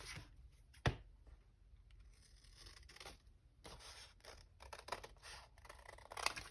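Scissors snipping through a paper file folder during a woodland winter journal craft, several crisp cuts and tearing rustles spaced irregularly, close and fairly quiet with no talk.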